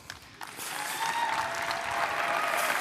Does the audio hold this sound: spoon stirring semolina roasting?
no